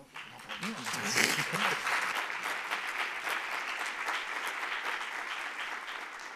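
An audience applauds at the opening session of an innovation summit, a steady, fairly quiet wash of clapping that swells early and holds, with a voice briefly heard at the start.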